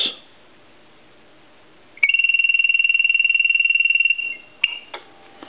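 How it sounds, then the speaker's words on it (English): A telephone rings with a steady, rapid electronic trill for about two seconds, loud and close, followed by a few clicks and clunks. "I want to hang the telephone up and ring it"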